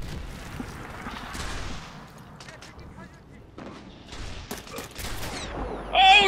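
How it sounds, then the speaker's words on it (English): Gunfire from a TAC-300 sniper rifle in the shooter game Medal of Honor Warfighter, sharp cracks and bursts rising toward the end of a noisy in-game battle mix, with a player talking over it. "I just sniped somebody while blind!"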